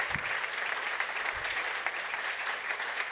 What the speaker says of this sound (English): So get another round of applause